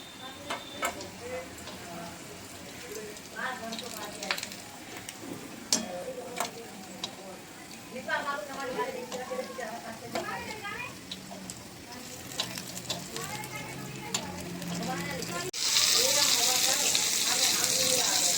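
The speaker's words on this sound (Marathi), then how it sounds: "मी ही डीप फ्राय केली आहे" Prawns deep frying in hot oil for a Malvani prawn fry, a soft continuous sizzle and crackle with scattered pops, growing louder and hissier near the end, under someone talking.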